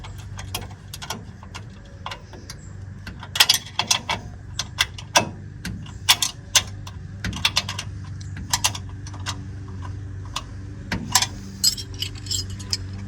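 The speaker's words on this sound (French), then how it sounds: "on va récupérer une clé de 17, on va remettre les boulons dessus" Metal clicks and ticks of a 17 mm wrench as bolts are refitted on a braked, folding, tilting motorcycle trailer, a run of sharp irregular taps over a low steady hum, with no talking.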